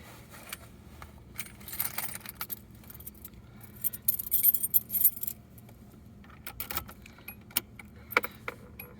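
A bunch of car keys for a one-owner 1993 Nissan S13 240SX jangles close by in several bursts of metallic clinking, with quieter pauses between shakes and no talking.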